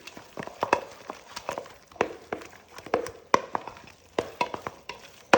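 Eggs are beaten into choux pastry dough by hand, giving a rapid series of wet, sticky slaps and squelches in an uneven rhythm, close and moderately loud with no talk.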